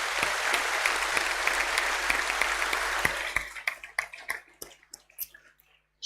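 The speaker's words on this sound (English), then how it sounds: "I think that deserves a round of applause." Audience applauding at an awards night for a young sailor, dense clapping that holds for about three seconds, then thins into scattered individual claps and fades to silence.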